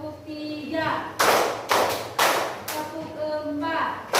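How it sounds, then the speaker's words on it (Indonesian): A class of children standing in a classroom claps together in counted bursts, with single, double and triple sharp group claps ringing out between a teacher's spoken counting. "Tepuk 1, tepuk 2, tepuk 3"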